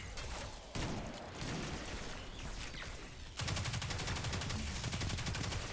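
Gunfire from the Warhammer 40,000: Space Marine 2 video game: dense, steady shooting that turns into a louder, rapid rattling burst for the last couple of seconds, with no voices.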